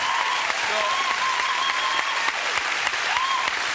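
Studio audience on a British TV chat show applauds loudly and steadily throughout, a dense wash of clapping with a faint tonal whistle or whoop running through it.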